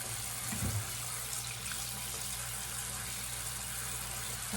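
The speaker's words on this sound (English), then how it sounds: "the directions said to put it under running water and use soap" Cold tap water runs steadily over skin to wash off a temporary tattoo. It makes a continuous close splashing hiss with no talking.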